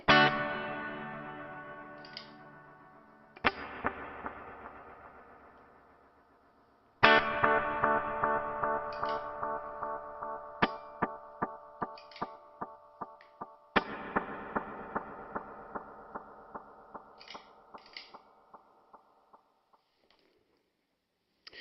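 Electric guitar through a NuX Atlantic delay and reverb pedal: strummed chords and single notes ringing out with long echoing repeats and a wide reverb tail, rhythmic picked notes decaying between phrases, no talk.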